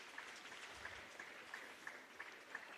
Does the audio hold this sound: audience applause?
yes